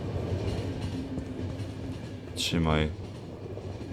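A train runs steadily in The Final Station video game with a low continuous rumble, a short squealing burst near the end, and a brief spoken word over it.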